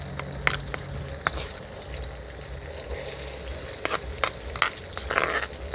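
Stir-frying in hot oil for Indonesian nasi ayam penyet gives a steady, moderately quiet sizzle broken by scattered sharp clinks and scrapes of a utensil against the pan, with a busier cluster of hits near the end.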